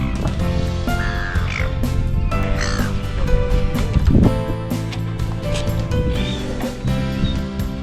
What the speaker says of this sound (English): Check out all the birds coming.